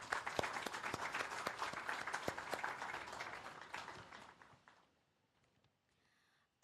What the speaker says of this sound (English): let us please give a round of applause to ABSA for their commitment shown.